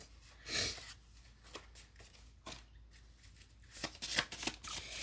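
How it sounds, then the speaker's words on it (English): Tarot cards being shuffled by hand with close, quiet riffling and flicking bursts, some louder snaps as cards are pulled, with no voice over them. "I'm going to pull a couple of initial cards"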